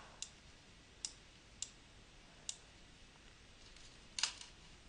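Quiet, close computer mouse clicks, about six sharp single taps spaced irregularly, including a quick double click near the end, over faint room hiss.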